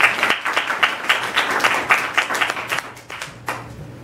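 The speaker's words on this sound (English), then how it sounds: "if you could join me in a round of applause for Private Bellacomo" An outdoor audience at a historic site living-history program applauds a soldier reenactor, a lively round of close, crisp clapping with many hands that gradually thins toward the end.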